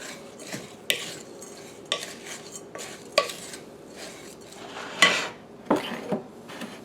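Grated zucchini and carrot fritter batter with mozzarella is stirred in a bowl, a utensil scraping and clacking against the sides in irregular strokes roughly once a second, close and fairly quiet with no talking.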